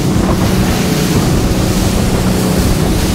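A 2019 Ribeye S785 RIB motorboat runs at speed off the UK south coast, its engine roar mixed with rushing waves, spray and heavy wind buffeting the microphone, loud and unbroken throughout.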